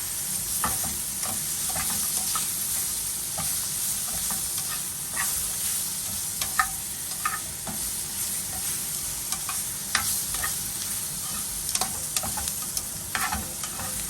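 Vegetables sizzle steadily in a pan over high heat, a constant frying hiss broken by scattered clicks and scrapes as they are stirred and flipped, close and fairly loud with no talking.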